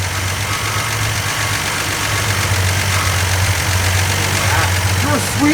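A rebuilt Chrysler Slant Six engine running at a steady, even idle, its low rumble continuous and close throughout, with a few faint squeaks toward the end.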